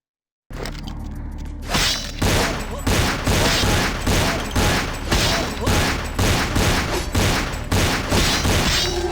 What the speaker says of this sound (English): Am I gonna have to take out my trusty pistol?